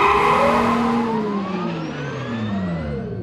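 A 2023 Hyundai Santa Fe plug-in hybrid drives in fully electric mode, its steady interior road and motor hum loud throughout, with rising and falling whine tones sliding across the clip and no talking.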